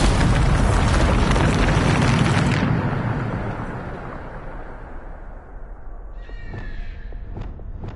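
A Bombarda spell in Hogwarts Legacy sets off a loud, dense blast that roars for the first few seconds, then decays into a rumbling tail with a few sharp crackles and bright magical chimes near the end.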